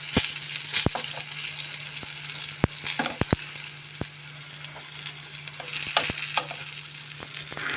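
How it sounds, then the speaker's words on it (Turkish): Steady sizzling of potatoes frying in a pan, with scattered crackles and pops over a constant hiss and a low hum, close by. "Söndür artık kızartmayı."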